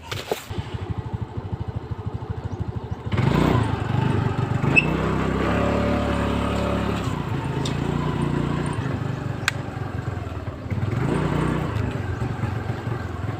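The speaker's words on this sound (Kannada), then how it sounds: "ನಾನು ಗಾಡಿ ಸ್ಟಾರ್ಟ್ ಮಾಡಿ ತೋರಿಸ್ತೀನಿ" A motorbike engine, running on a small amount of petrol, starts after a few seconds of ticking and settles into a steady, close, even idle that drones on to the end.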